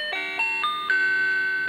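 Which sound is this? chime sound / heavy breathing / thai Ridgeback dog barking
chime sound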